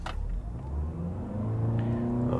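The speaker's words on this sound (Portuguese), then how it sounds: "Modo esporte, e vamos acelerar o carro, vamos ver como que é o nível de ruído nessa aceleração aqui" A Toyota RAV4 Hybrid accelerates in sport mode, its engine and electric motors giving a steady, muffled in-cabin drone that rises gently in pitch under low road rumble.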